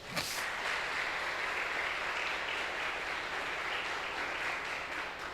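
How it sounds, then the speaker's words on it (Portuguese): Church congregation applauding during a sermon, an even, sustained patter of many hands clapping at moderate level with no talk over it. "Dê um aplauso ao Senhor por isso."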